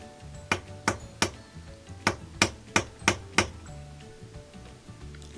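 A small appliance hammer taps a motor coupler onto a Whirlpool or Kenmore washer motor, giving about eight sharp, close metallic knocks in an uneven rhythm, then stopping.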